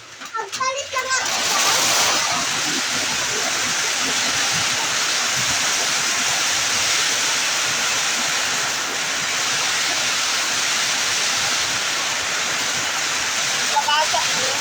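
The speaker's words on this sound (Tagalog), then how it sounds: "Malakas ang ulan." Heavy rain pours down in a constant loud rushing roar, with a voice heard faintly beneath it.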